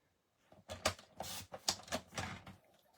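Paper being trimmed for a handmade Christmas gift card holder, heard as a short run of crisp, close cutting snips and rustles in a quiet room.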